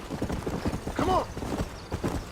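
A horse galloping in the Western video game Red Dead Redemption, rapid rhythmic hoofbeats thudding continuously at close range, with a brief whinny partway through and a voice speaking over the hooves.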